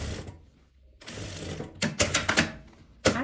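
A sewing machine runs a straight seam along folded fabric and lining, starting with a low mechanical whir and then breaking into a series of quick, loud rattling bursts close by with short pauses between them.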